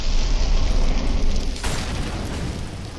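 A fireball spell explodes in a competitive esports match on the Mirage map, a loud close boom followed by a roaring burst that fades over a few seconds.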